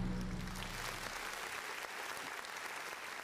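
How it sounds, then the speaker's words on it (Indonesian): Applause from an audience at the ISEF 9th opening ceremony in Indonesia, a dense, steady wash of clapping that stays loud and even throughout, with a brief tonal sound at the very start. "Tepuk tangan untuk ISEF."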